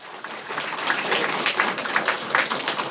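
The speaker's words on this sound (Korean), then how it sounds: "박수!" A congregation at a church family and neighbour worship service with a puppet show breaks into applause, a steady wash of clapping from many hands that swells slightly and holds.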